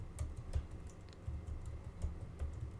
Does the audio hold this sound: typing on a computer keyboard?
yes